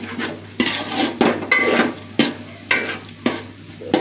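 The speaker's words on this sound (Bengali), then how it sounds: "এদিকে সয়াবিনটা ভাজা হচ্ছে মিহি মিহি জালে" Soybean chunks frying in a pan for vegetarian khichdi, a steady sizzle broken by regular scraping stirs roughly every half second, close and alone without talk.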